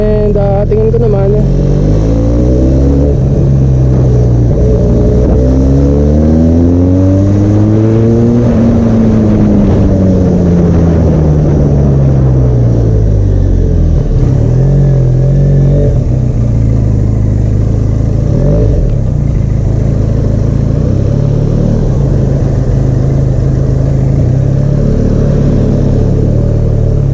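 Benelli Leoncino 500 motorcycle accelerating in second gear, its engine note rising in repeated sweeping pulls, loud and close throughout with a steady wind rush and no talk over it.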